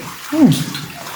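An underground river flows through a cave, its steady wash of water running beneath a short voice that rises over it midway.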